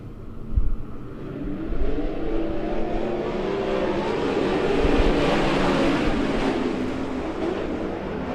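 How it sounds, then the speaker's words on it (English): Sprint race cars at Keller Auto Speedway roar through the turns during a heat race, a continuous distant engine rumble that swells and fades as cars pass, with a brief thump near the start and no talk. "Cars going everywhere down there through 1 and 2."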